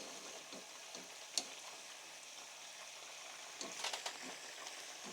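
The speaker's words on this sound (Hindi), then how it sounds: "अब इसको हम चम्मच चलाएंगे, कलर भी माशाल्लाह हमारे रोस्ट का चेंज हो रहा है।" Masala roast frying for a pulao, stirred with a spoon in a pan over a high flame: a steady soft sizzle with a few small scraping clicks and taps, moderately faint and with no voices.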